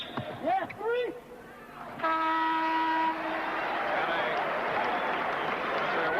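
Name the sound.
referee's whistle at a basketball game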